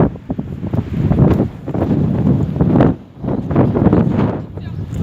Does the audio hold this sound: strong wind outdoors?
yes